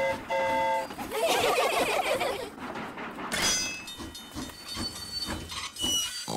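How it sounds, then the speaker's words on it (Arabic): Cartoon train running along a track, with a chugging rumble, hissing steam and a tooting whistle in a children's animated scene, loud and continuous with brief background voices. "القطار يسير على المسار تشو تشو تشو تشو تشو تشو على المسار"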